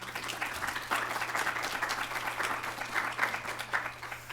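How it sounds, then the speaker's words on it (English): Audience at a web accessibility gathering in Berkeley applauding, a steady patter of many hands clapping at moderate distance, holding for several seconds. "I want to give them all a round of applause."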